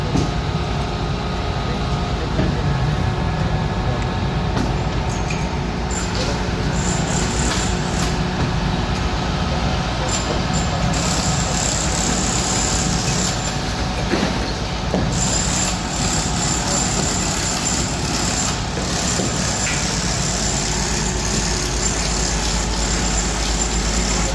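Heavy equipment at a barangay demolition site runs with a constant low diesel rumble, broadband mechanical noise and occasional clanks, steady and fairly loud throughout.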